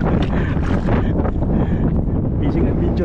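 Strong wind buffets the microphone in loud, rumbling gusts during a fishing trip in monsoon weather, with a voice speaking faintly underneath.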